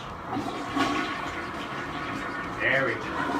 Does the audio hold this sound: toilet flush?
yes